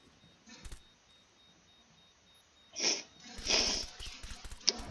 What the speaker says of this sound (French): Je sais que je renifle beaucoup